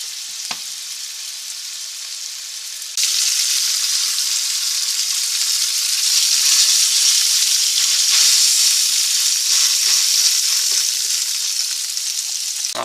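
Sausage frying in a pan while cooking for a chicken and rice dish: a steady, dense sizzle and hiss that swells louder after a few seconds and keeps going, close and continuous, with no talking.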